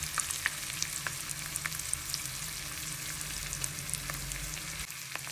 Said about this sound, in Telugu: ఇప్పుడు ఇది ఉడికిన తర్వాత దీన్ని ఇలా ఫ్లిప్ చేసుకోవాలి. ఇటువైపు కూడా ఫ్రై చేసుకోవాలి.